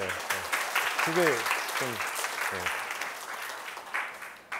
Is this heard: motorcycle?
no